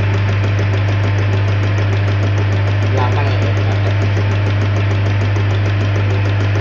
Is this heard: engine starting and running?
yes